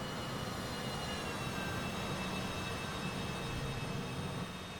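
A jet aircraft taxis into its parking spot at the airport on St. Maarten, its engine noise a steady, loud broadband roar with a low rumble and faint high whine, continuous throughout and easing slightly at the very end.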